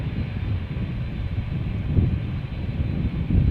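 A United Airlines Boeing 787-8 Dreamliner at Schiphol produces a broad, steady jet roar heard from some distance, mixed with gusty wind buffeting the microphone.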